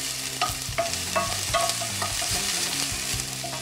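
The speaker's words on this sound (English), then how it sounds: "Let's throw those in there. And we just want these to start sautéing a bit" Sliced white onions sauté in a pan with a loud, steady sizzle, broken by regular scraping stirs about every half second, close by and alone.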